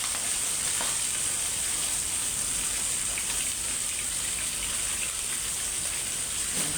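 Onions frying in a pan alongside fish give a steady, dense sizzle that holds at an even level throughout, close and continuous with no talking.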